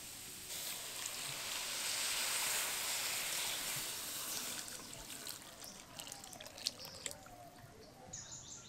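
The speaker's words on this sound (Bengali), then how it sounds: "এবার এর মধ্যে আমি 700 গ্রাম মতো দুধ দেব।" Milk pouring into a pan of fried grated cauliflower, a steady close liquid stream and soft hiss that thins into light trickles and a few drips, no talking.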